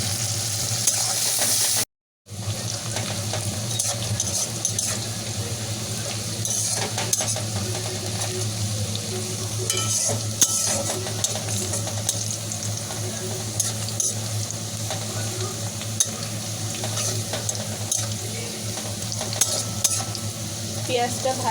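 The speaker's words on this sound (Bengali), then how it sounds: "পেঁয়াজটা ভাজা হয়ে গেছে" Onions fry in a pan for chicken kosha while being stirred, a constant crackling sizzle layered with repeated scraping and utensil taps against the pan, close and alone apart from a brief dropout near the start.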